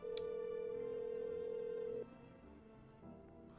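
Telephone tones in the horror game No, I'm Not A Human as a call is placed to the neighbor: a steady electronic ring-back tone for about two seconds, then quieter tonal blips, alone with no talk.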